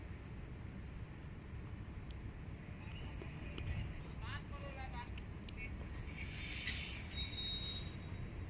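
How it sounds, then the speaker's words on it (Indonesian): The Taksaka passenger train squeals faintly on the rails as it comes to a stop after shunting, a distant metallic screech over steady low rumbling background noise. "Nah itu kereta taksaka sudah berhenti ya guys, sudah selesai langsir"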